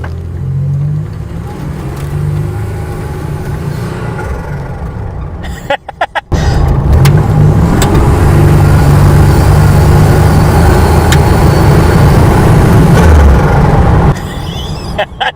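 A 1987 Buick Grand National's turbocharged engine, close and loud, revs under load, then sputters and cuts out abruptly mid-pull before roaring back and cutting out again, a rough stumbling rhythm.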